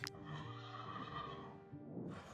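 A horse in the video game WarTales whinnies, a loud, close, drawn-out neigh lasting about two seconds, with a wavering pitch and a breathy snort at the end, over a steady musical background.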